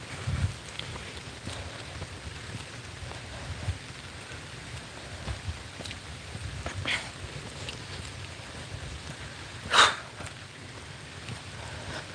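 Faint, steady rain falls outdoors as a soft continuous hiss, with a few sharper drips and one brief louder splash standing out from the quiet background.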